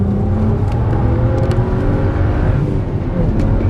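A BMW 1 Series M engine revs hard up close on the Le Castellet race track, its pitch climbing and shifting as it accelerates, with a loud, continuous whine and rumble.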